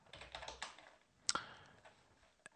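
Quick, light tapping on a computer keyboard, a short burst of soft keystrokes followed by a sharper press like the enter key and one final tap, close and quiet with no talk.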